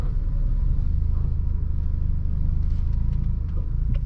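Manual transmission car pulling away slowly in first gear as the clutch is eased out, a steady low engine rumble and drivetrain vibration close by, without speech.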